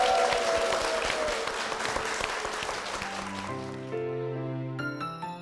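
Applause from a church congregation honoring a family, a dense crowd clapping that fades into sustained music tones near the end.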